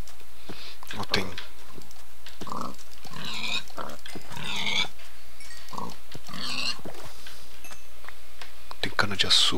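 Minecraft pigs oink and grunt in short bursts at several points, mixed in with someone talking throughout.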